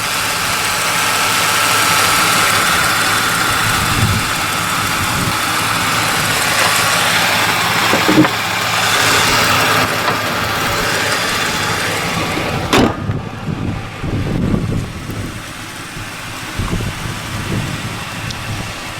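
A 1998 Ford Windstar's 3.8 liter engine idles steadily with a low, continuous rumble and faint knocking, heard close by with no talking.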